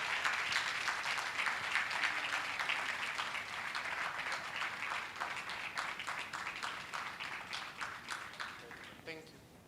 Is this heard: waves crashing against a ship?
no